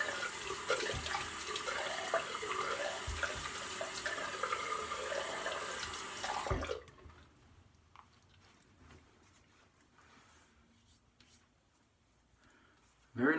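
A tap runs steadily and loudly for the rinse after a shave, a continuous broad wash of flowing water that cuts off abruptly about halfway, leaving a quiet room with faint handling noises.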